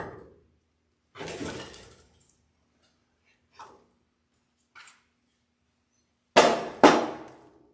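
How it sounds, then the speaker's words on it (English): A rubber mallet taps a new powder-coated control arm on a 1970 Chevrolet El Camino frame, giving a few separated, dull thuds, two of them loud close together near the end. "Now I'm using a rubber mallet here because I don't want to chip all the powder coating off the brand new control arm."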